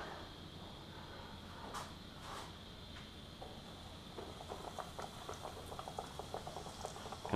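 Hot frying oil in a pan gives off a soft, steady bubbling and fizzing, with small crackles growing busier toward the end, faint and close.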